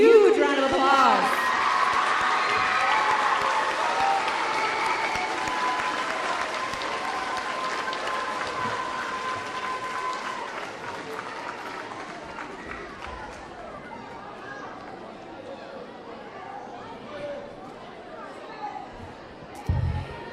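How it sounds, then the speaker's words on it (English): School audience at a junior high awards assembly applauds students, loud clapping at the start that gradually thins and fades, with crowd chatter and a brief louder burst near the end. "Please give these students a huge round of applause"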